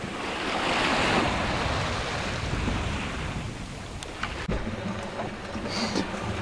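Surf and wind wash steadily around a small yacht, Mingming II, sailing at sea toward the Arctic, a broad continuous rush with occasional splashes and light knocks toward the end.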